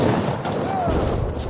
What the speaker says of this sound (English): My men are still firing.